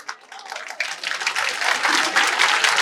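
An audience at a Ramcharit Manas recital claps together, starting sparse and building into dense, sustained applause that grows louder toward the end.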